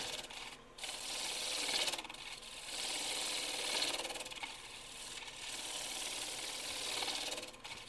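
A lathe gouge makes a pull cut from the center outward on a wooden hollow form turned from a crotch piece, a steady rushing scrape rising and falling in long repeated passes, close and continuous, no talking.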